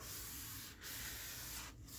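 A napkin burnishing paper down in a journal gives a soft, faint, continuous rubbing hiss with two brief pauses.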